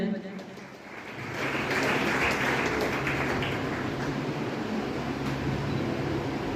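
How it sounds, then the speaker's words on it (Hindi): Audience applause at an award ceremony in a hall, rising after a quiet first second into sustained, dense clapping that holds steady and loud to the end. "एक बार जोरदार तालियां बजाएं"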